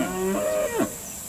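Cattle mooing at a Georgia cattle sale with steers and bulls penned together: a short low moo rising and bending, then a second brief call, close and moderately loud over steady background noise.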